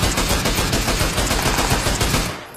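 Rapid automatic gunfire from a shooting video game rattles loud and continuous in a dense burst for a little over two seconds, then cuts off abruptly.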